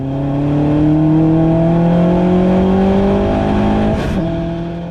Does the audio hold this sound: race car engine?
yes